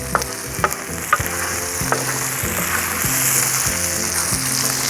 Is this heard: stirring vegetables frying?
yes